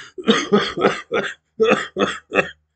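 A voice imitates a run of harsh coughs, about seven in two quick bursts separated by a short pause.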